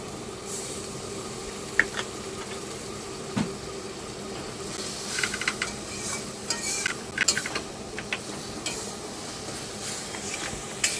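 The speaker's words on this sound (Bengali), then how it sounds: "সবগুলো ভালো করে আমি এবার কষাবো।" Spice masala for a jackfruit and prawn curry sautéed in a pan, low hissing sizzle with irregular stirring scrapes and a few sharp clinks of a spoon on metal, close by and without talking.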